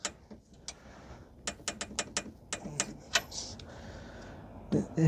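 A torque wrench tightens the lower ball joint pinch bolt on a 2011 Subaru Outback 2.5, giving a run of sharp close metallic clicks in quick bursts, with a final double click at the end.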